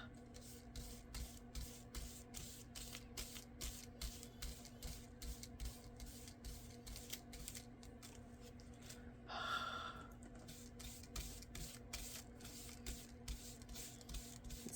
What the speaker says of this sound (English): I just breathe on it a little bit.